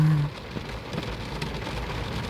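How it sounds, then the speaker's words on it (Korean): Steady rain falls outside a parked sedan at a waterside park in Incheon, with a soft, continuous patter of drops, heard alone without voices. "밖에 지금 비가 내리고 있어요. 빗소리 너무 좋습니다."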